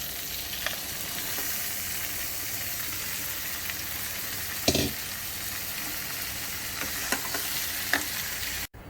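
Potatoes with turmeric powder frying in a pan for a home-style Bengali dish, giving a steady, close sizzle throughout with a few brief scraping stirs over it and no talk.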